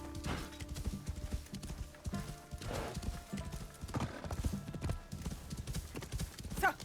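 Horse hooves clip-clop in Assassin's Creed Shadows, a steady close trot with a whinny heard along the way, under faint game ambience and no clear talk.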